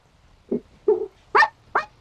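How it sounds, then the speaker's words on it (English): Dogs in a modded survival video game give four short, sharp yelps and whimpers in quick succession, close and clear, with no talking. "gotta get the dogs to stop crying or barking"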